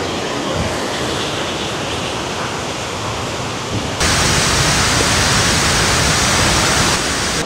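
Falls 1 in Prosperidad, Agusan del Sur roars as a loud, steady rush of falling water heard up close, growing even louder partway through.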